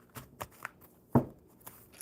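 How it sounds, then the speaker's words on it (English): Enchanted map cards are shuffled by hand in a few brief, crisp riffling bursts scattered across a quiet moment, close by and fairly soft. "I was just shuffling the enchanted maps."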